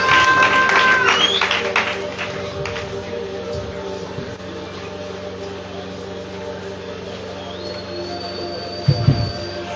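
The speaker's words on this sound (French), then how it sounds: "nous acclamons Jésus" A church congregation cheers and applauds in acclaim of Jesus at the closing of a convention, a steady, dense wash of clapping and crowd noise with voices mixed in, easing slightly after the first seconds.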